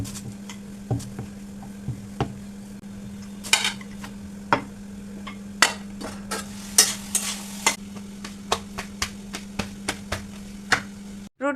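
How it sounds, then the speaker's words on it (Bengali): Potatoes frying in a pan, heard as a low sizzle under a steady hum, with frequent sharp clicks and scrapes of stirring spaced irregularly throughout. "আর ওদিকে আলু ভাজাটাও হতে থাকবে"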